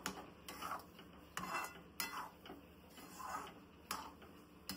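A spoon stirs sheera (semolina halwa) in a pan while the sugar dissolves, giving repeated soft scraping strokes and light metallic clinks at a steady, unhurried rhythm, close and quiet.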